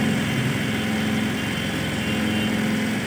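Bajaj Pulsar 125 BS6 motorcycle engine idling close by, a steady, even mechanical hum with a constant low tone throughout.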